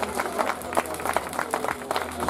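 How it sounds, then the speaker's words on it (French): A crowd claps and cheers at the 2024 French Cup XCO mountain bike race in Marseille, a dense, steady patter of many hands with uneven swells running throughout. "Vous entendez les applaudir très très fort pour toute l'équipe d'organisation"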